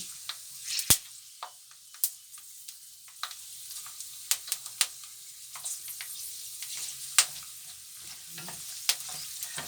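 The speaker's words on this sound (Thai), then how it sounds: "ทอดแบบไร้มันต้องใส่นิดเดียว เพราะเขาจะเต็มกระทะทีเดียว" Food frying in a pan with only a little oil, a continuous soft sizzle broken by sharp crackles and pops, with occasional stirring scrapes, close and alone.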